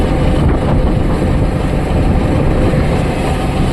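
A fishing boat pulls out of Benfish fishing harbour at dawn, its engine a loud, close, continuous rumble and drone that masks everything else, with no voices heard.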